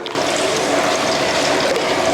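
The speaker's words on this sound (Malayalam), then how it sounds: "ഞാൻ മൂന്ന് കിലോത്തിന് ഒരു മുന്നൂറ്റമ്പത് ഗ്രാം സൺഫ്ലവർ ഒഴിക്കുന്നുണ്ട്" Sunflower oil poured into a large pot for a prawn biryani, a steady liquid pour with a continuous splashing trickle running unbroken from start to finish, close and fairly loud.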